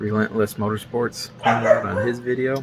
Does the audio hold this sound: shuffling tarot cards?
no